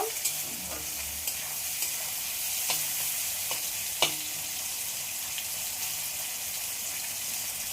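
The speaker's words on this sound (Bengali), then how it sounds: "পেঁয়াজটাকে আমি একটু লাল লাল করে ভেজে নেব।" Chopped onions with a pinch of salt fry in a pan for chow mein, a steady close sizzle with occasional stirring clicks and no talking.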